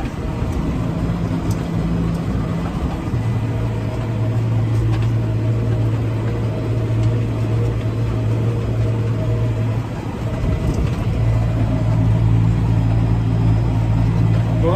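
A Massey Ferguson 5712 SL tractor drives straight across a field pulling a 3-metre Gaspardo Maschio rotavator, its engine a steady, loud drone with a sustained low hum that shifts slightly partway through.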